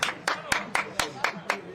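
A co-commentator claps his hands in a steady rhythm at a non-league football match, Farnham Town against Binfield, with seven crisp, evenly spaced claps close to the microphone over faint background noise.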